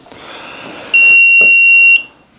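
A Vevor heat press controller gives a single loud, steady electronic beep lasting about a second right after being switched on, preceded by faint background noise.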